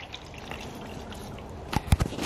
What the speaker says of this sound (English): We're pouring demineralized water in.